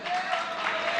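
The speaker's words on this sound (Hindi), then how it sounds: "क्या गजब की ताली बजी।" A congregation at a Jain religious discourse bursts into applause, a brief, dense stretch of many hands clapping at moderate distance with no speech over it.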